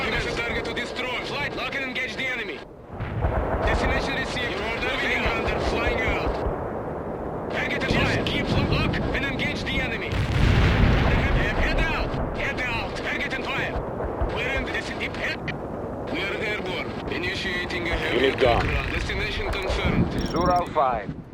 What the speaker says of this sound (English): The artillery barrage has stopped.